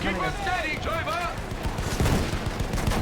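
Gunfire in Battlefield 1, a World War I shooter, crackles in dense rapid bursts that build toward the end. A voice talks excitedly over the start, and the shots are close and loud.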